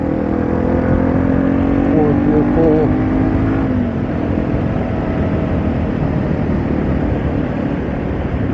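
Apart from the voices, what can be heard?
Yamaha TW200 motorcycle engine running and revving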